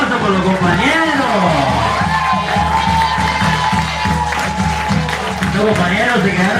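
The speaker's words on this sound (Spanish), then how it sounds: "fuerte el aplauso por los compañeros" Crowd applause and cheering for striking coworkers at a strike gathering, dense and continuous throughout, with shouts and voices mixed into the clapping.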